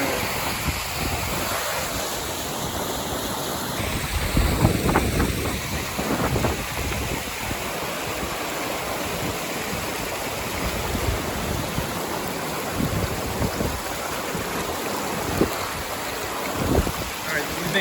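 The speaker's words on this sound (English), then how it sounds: "Whitewater." Whitewater stream rushing beside a mountain trail, a loud continuous broadband roar of churning water with faint footsteps and movement mixed in.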